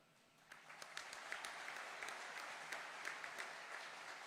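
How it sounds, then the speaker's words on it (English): An audience claps at the opening of a Westrock Coffee facility in Conway, a steady ripple of scattered applause with sharp individual claps standing out, fairly distant and soft. "so sorry to do all the intermittent claps"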